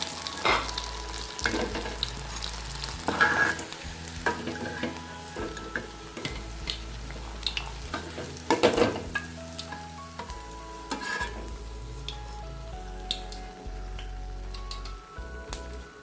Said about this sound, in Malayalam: ഇനി ബാക്കിയുള്ളതും കൂടി നമുക്ക് ഇതേപോലെ പൊരിച്ചെടുക്കാം കേട്ടോ